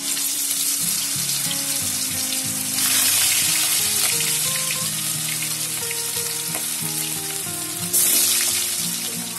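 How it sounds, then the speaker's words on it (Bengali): Whole cardamom, cinnamon and bay leaf drop into hot oil for a Bengali katla fish chutney curry, giving a loud, steady close-up sizzle that swells in bursts at two points. Nobody talks. "ফোড়নে এলাচ দারচিনি আর তেজপাতা দিয়ে দিচ্ছি"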